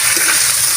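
Tuna innards sauté with caramelized onions in a pan, giving a loud, dense, continuous sizzle with no pauses and no voices.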